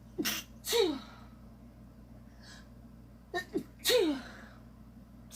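Two sharp sneezes, each preceded by a quick inhaled gasp, close to the microphone with quiet pauses between them.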